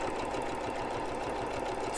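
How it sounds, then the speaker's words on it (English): A quilting machine stitches a fine seam at a steady fast pace, a continuous mechanical whir with a rapid rhythmic chatter, moderately close and unbroken. "Now my machine automatically does 3 back stitches and stops."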